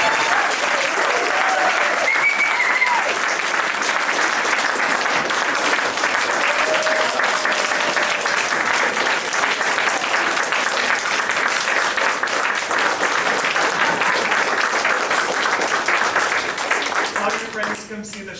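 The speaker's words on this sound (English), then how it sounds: "Can we just hear a round of applause?" Sustained, dense audience applause after an evening stage performance of letters read aloud, steady and full for about seventeen seconds before tapering off, with a few faint voices in the crowd.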